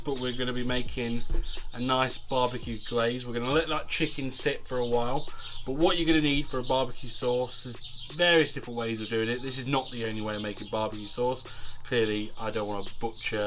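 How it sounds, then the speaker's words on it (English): Birds coo and chirp outdoors behind someone talking steadily while cooking barbecue chicken wings, the calls faint and repeating in the background under his voice. "So apologies for the bird noise,"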